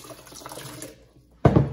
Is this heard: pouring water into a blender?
yes